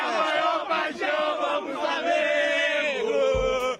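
Flamengo supporters cheer and chant in a sustained, loud, massed roar as the team arrives on a Tuesday evening, with the voices continuous across the moment.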